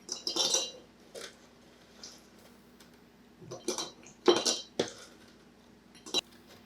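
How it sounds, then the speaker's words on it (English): Dehydrated cashews are tipped into a glass jar in a few separate bursts of hard little clinks and rattles, with quiet gaps between pours and no voices. "I'm just going to put them in a jar"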